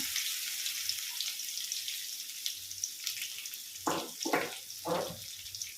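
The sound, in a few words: crushed ginger and garlic frying in oil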